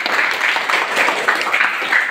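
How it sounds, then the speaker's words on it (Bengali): Audience applause after a song at a school event, a dense continuous patter of many hands clapping at moderate loudness. "কি করতালি দিবা না?"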